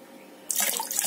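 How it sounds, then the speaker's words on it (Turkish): Water poured into a small countertop mini dishwasher starts about halfway through, a steady close splashing gush that keeps going after a quiet start. "Sonra suyumuzu koyacağız."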